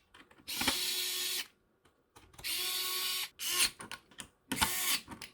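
A power screwdriver drives screws into a case during a gaming PC build, in three loud, buzzing bursts of about a second each separated by short pauses and small clicks.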